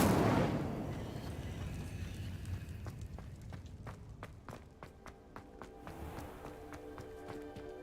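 The Incendio fire spell is cast in Hogwarts Legacy, a loud whooshing burst that fades into a crackling rumble, followed by scattered sharp ticks and soft footsteps.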